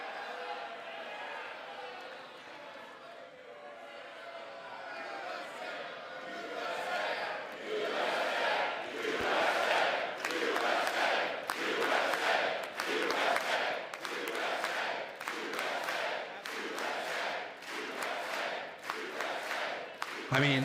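Applause swells in Congress during a presidential address by Trump, starting faint and building into rhythmic, sustained clapping and crowd noise, with a speaker's voice underneath.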